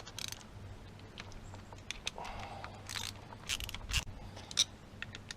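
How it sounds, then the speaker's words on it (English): A Honda CB500X motorcycle has its brake caliper bolts removed: faint metallic clicks, ratcheting and scrapes, with short clanks of parts being handled close by in a quiet room. "Pull the brake caliper off."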